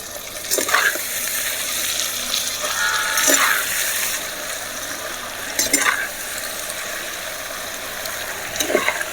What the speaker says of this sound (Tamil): இப்போ காய்கறியை இதில் போட்டு நம்ம வதக்கிக்கலாம் கத்திரிக்காய் அவரைக்காயை